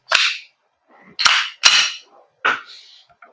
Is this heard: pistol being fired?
yes